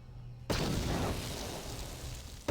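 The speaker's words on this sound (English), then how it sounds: "It wasn't really that big of an explosion." Explosion in the video game Star Wars: Knights of the Old Republic, a sudden loud blast that breaks into a sustained rumbling roar and slowly fades.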